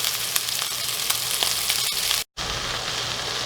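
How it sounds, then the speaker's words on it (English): Beef pieces browning in a hot frying pan for stroganoff give off a steady, loud, close sizzle throughout, broken by one very brief dropout near the end, with no talking. "So you want to brown for about 3 minutes either side, or even less, because you don't want it to be cooked all the way through."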